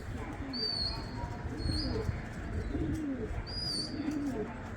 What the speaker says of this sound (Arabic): المهم هسه الطيور تحط هاي